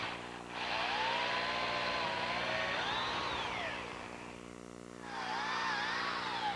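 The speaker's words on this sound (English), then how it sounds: "I'm going to drill a hole all the way through" A power drill with a 3/16 inch bit whines steadily as it bores all the way through oak, its pitch shifting under load, easing briefly, then rising again for a second push.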